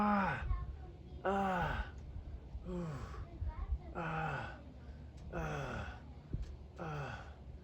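A man breathes heavily during a Raynor massage session, with about six loud, drawn-out gasping exhales and groaning breaths spaced at a slow, regular rhythm.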